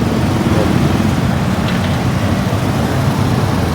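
Road traffic crawling through roadworks in Guinobatan, Albay, with many trucks about: a loud, continuous, broadband rumble of engines and tyres close by, steady throughout with no talk.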